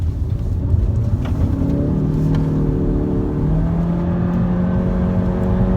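Constant low road rumble and tire drone fill the cabin of a 2017 Honda Civic Hatchback while driving, loud and steady with a faint engine whir shifting underneath and no voices.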